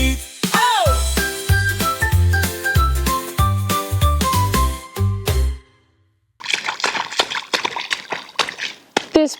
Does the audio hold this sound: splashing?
yes